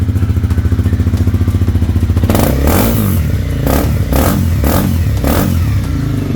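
A 2013 Honda CBR250R Repsol Edition single-cylinder motorcycle with an Akrapovic exhaust, loud and close, shifts from a steady thumping idle into a series of sharp throttle blips with deep, throaty revs and a rasping exhaust note.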